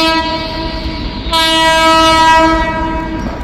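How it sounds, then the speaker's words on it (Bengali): The Bharat Gaurav tourist special train rolls into Dum Dum station, sounding a long, loud horn over the rumble of the moving carriages, with no talking. "এই ভোর 6টা 5 নাগাদ এই খাতিপুরা কলকাতা খাতিপুরা ভারত গৌরব ট্রেনটি ঢুকলো"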